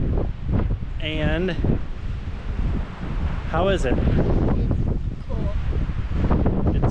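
Strong gusty wind buffeting the microphone on a mountain top at Chimney Rock State Park, North Carolina, with brief voices speaking under the rumble.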